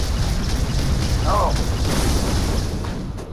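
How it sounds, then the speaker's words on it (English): Gunfire and explosions in the Halo 3 video game, a dense rumbling roar of booms and blasts with steady loud low-end energy, fading slightly toward the end. "A lot of gunfire"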